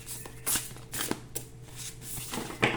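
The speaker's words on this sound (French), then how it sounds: "On va prendre une carte au hasard." Oracle cards shuffled and drawn by hand, a few soft papery riffles and slaps in quick irregular bursts, close and quiet with no voices.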